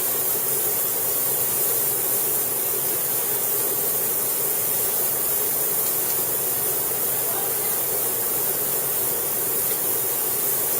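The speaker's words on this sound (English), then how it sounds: "That ultrasonic cleaner makes a beautiful sound." A steady, even hiss with a constant high whine from an ultrasonic cleaner filled with distilled water running nonstop close by.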